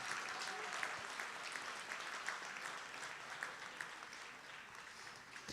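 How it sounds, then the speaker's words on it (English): A live charity auction crowd applauds a sold lot, steady dense clapping holding at an even level for several seconds, with a faint voice underneath. "Can we get a huge round of applause?"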